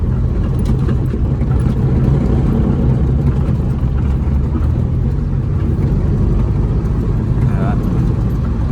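An old VW Beetle's engine drones steadily from inside the moving car, a constant low rumble while people talk over it.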